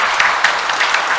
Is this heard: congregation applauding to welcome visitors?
yes